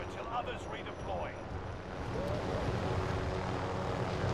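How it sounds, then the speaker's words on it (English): A helicopter in the Call of Duty: Modern Warfare video game drones in a steady broadband rotor-and-engine roar that swells slightly louder partway through, mixed with faint game effects. "there's a helicopter"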